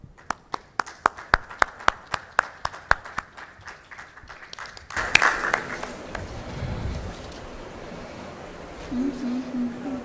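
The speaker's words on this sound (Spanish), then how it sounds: "lo recibimos con un fuerte aplauso" Audience applause greets Mariano Castro Sánchez Moreno as he takes the podium at a conference session: a few sharp, evenly spaced claps give way to a denser, washy spread of clapping from the room, with no voices.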